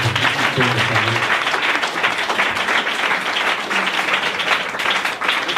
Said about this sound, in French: On acclame encore le Seigneur Jésus-Christ.